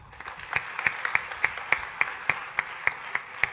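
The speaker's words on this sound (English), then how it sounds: "So give an applause for that." Rhythmic clapping in a steady, even beat, about three claps per second, moderately loud over a faint background hum.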